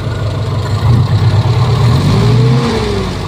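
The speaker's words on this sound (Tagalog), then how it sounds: "Ayos, ang ganda ng tunog ng makina." A car engine runs with a throaty exhaust at close range, holding a steady, loud idle with a brief rev near the end, and no voices over it.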